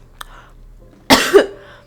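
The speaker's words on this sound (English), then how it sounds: "Because I have a cough" A single short, sharp cough from a person who says they are ill, close and loud, following a faint click and quiet background.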